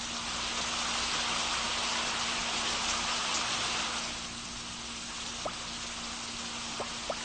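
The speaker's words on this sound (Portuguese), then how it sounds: "Observe como as gotas de chuva caem que nem bombas sobre os chapéus" Rain falls onto mushroom caps as a steady, soft hiss of drops that thins out, leaving a few distinct, close drips landing one at a time near the end.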